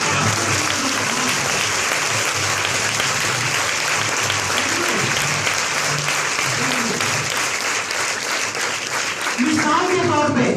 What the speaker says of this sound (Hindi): इसीलिए मैं कहता हूं इनके लिए दिल खोल के ताली बजनी चाहिए।